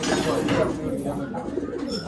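A female pigeon coos softly in a pigeon loft in Perinthalmanna, giving low, throaty murmuring calls close by, under someone speaking.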